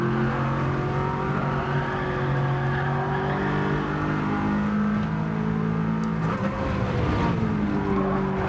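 A race car engine in Gran Turismo 7 screams at high revs, its pitch climbing and shifting through the gears and pushing into over-revving near the end, loud and continuous.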